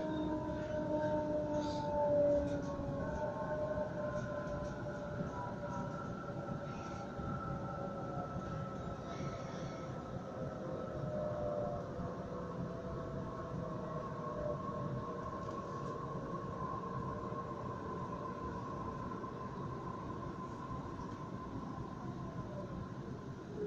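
A Sydney suburban train runs between stations, giving a steady low rumble and rolling rail noise with drawn-out whining tones from the motors, heard from inside the carriage at moderate level with no talk.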